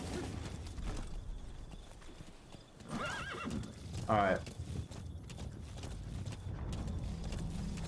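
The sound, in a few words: horse galloping in Metal Gear Solid V video game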